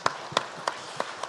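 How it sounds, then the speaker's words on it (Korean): A church congregation at a Friday New Year prayer meeting claps together in an even, steady rhythm, five crisp unison claps spaced about a third of a second apart. "우리 박수로 하나님께 영광 드리겠습니다."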